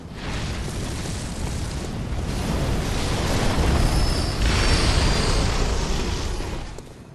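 A huge ball set ablaze in the game Bloodborne erupts in a loud, sustained fiery roar that swells over several seconds and then tails off, with no talk over it.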